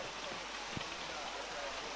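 Heavy rain falls on an outdoor athletics track at a speed meet, a dense steady hiss that stays loud and even throughout, with a brief voice underneath.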